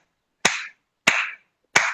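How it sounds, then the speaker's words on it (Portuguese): Three sharp, separate hand claps ring out in a slow, even rhythm, close and crisp against silence. "eu bato palmas"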